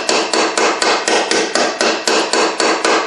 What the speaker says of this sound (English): we'll just pound around the edge of this bearing and drive her home